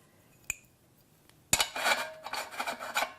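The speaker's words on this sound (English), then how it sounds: "Then you add the cutter. Line up this notch with this right here. And put the plate in place." Metal cutter and plate are fitted onto an electric meat grinder: a single tap, then a run of close scraping, rasping and clicking metal-on-metal handling.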